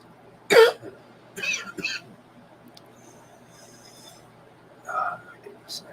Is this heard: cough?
yes